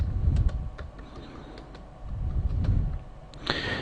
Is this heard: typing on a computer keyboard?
yes